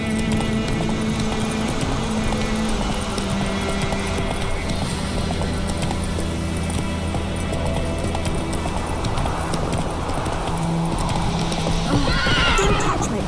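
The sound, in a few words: horse Roach hooves and whinny, from video game The Witcher 3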